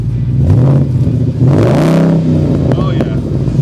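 A 2024 Ford Mustang GT with a stainless steel fluted exhaust revs loudly and close, the engine note climbing and falling in a couple of surging pulls while a voice talks over it.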